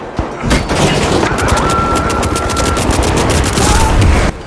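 Rapid turret gunfire in a video game, a loud dense stream of cracking shots sustained for several seconds with a brief electronic tone over it, close and harsh, then cutting off abruptly.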